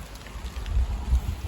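Rain falls steadily on an outdoor vegetable garden with raised beds, a soft broadband patter with low rumbling gusts, fairly close and continuous with no voices.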